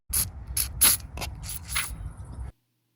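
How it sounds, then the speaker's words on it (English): Several short hissing bursts of PB Blaster penetrating oil sprayed from an aerosol can into a stuck steering wheel hub, in quick succession, close by, followed by silence. "grab some PB Blaster and spray inside there"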